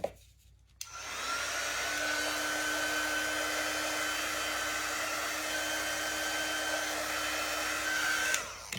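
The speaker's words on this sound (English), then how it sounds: "let's go ahead and dry it" A hair dryer blows a steady, loud whooshing hum over a chalk stencil sign, starting after a brief rustle and running unbroken to the end.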